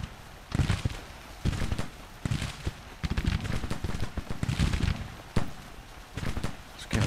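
Scattered gunfire from Civil War soldiers in the strategy game Grand Tactician: The Civil War, with irregular bursts of musket shots at mid distance in uneven clusters and no talking.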